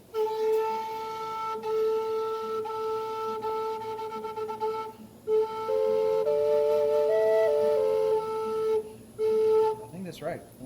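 A handmade triple drone Native American flute played as a steady, sustained tone with stacked drone notes while a melody line steps up and back down, close and clear, with short pauses between phrases.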